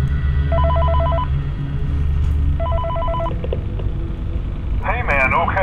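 A telephone rings in the Five Nights at Freddy's VR video game, two separate bursts of trilling electronic rings over a droning background, and a voice comes in near the end.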